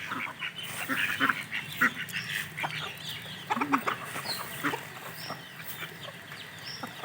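Chickens clucking at close range while grain is scattered for them, with repeated short clucks and squawks over a background of rustling and movement.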